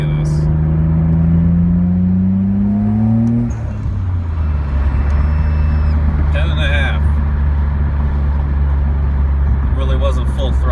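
A Nissan R32 Skyline GTR engine accelerates hard on a boost run, rising in pitch before a gear change, then droning steadily as the car pulls on, loud and close throughout.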